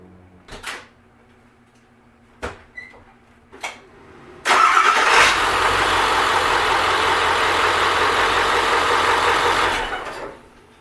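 A Ford 7.3 truck engine sits silent under a few knocks and clunks, then cranks and catches after about four seconds. It settles into a loud, steady close idle for roughly six seconds before shutting off.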